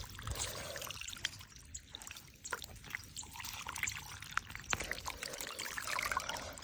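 Water drains off a soaked village field as it is cleared by hand, pouring and trickling in uneven splashes and gurgles, with scattered sharper splashes throughout.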